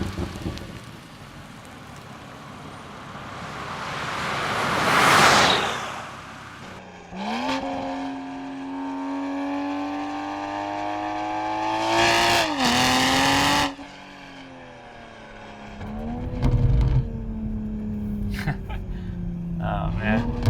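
2021 Toyota Supra on a canyon run, its engine climbing steadily under acceleration with gear changes and a turbo surge, heard from inside over a steady hiss while a person talks throughout.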